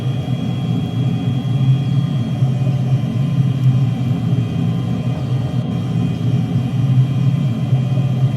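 De Havilland Venom jet engine in Microsoft Flight Simulator, a loud, steady roaring rumble with a faint high whine that holds constant throughout the climb, with no voices.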